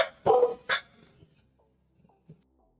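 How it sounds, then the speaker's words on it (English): Dogs bark out back: a few sharp barks in quick succession, then scattered faint yips and small noises trailing off into quiet. "The dogs are hearing something out back. It's the first time they've gotten all riled up during stream tonight."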